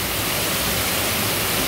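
A waterfall roars as a dense, steady broadband rush, close and continuous with no pauses and no voices.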